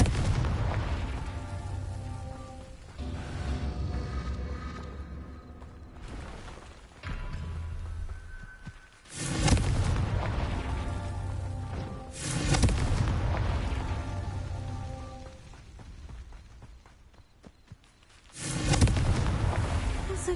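Confringo blasting curse explosions from Hogwarts Legacy, loud deep booms erupting every few seconds with rumbling tails, set against game music.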